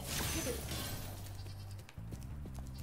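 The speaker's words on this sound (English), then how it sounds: "Oh, I was gonna get that sheep." A sheep bleats in the video game Spyro Reignited Trilogy, a drawn-out wavering bleat followed by a couple of shorter bleats, over busy game sound effects and a rushing noise, fairly close.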